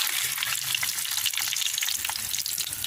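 Ingredients for egg pickle fry in a pan with a constant close hiss and crackle, broken by a few faint stirring sounds, no voices.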